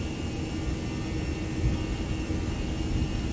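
Airbus airliner jet engines roar at takeoff (TOGA) thrust in a flight simulator, a steady loud low rumble with broad whooshing noise, continuous and close, with no talking.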